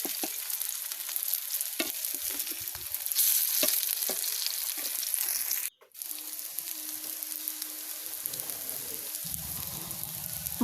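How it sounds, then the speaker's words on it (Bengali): Small mola fish fritters fry in oil while being turned, giving a steady close hiss with occasional spatula clicks. The sound cuts out briefly midway, then the sizzle returns with a faint hum beneath it. "আমি বড়াগুলোকে উল্টে পাল্টে দুই পাশে উল্টে পাল্টে ভালো করে ভেজে নিচ্ছি"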